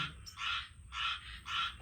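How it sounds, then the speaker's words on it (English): Little green frogs croak loudly and close by in three rhythmic, buzzy pulses, each lasting about a third of a second, with no talking. "it's the little bitty green frogs that make that much noise"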